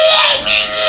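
A voice imitates the harsh, screechy modem-like loading noise of the Nightbreed game on the Commodore 64, a loud wavering wail lasting about a second.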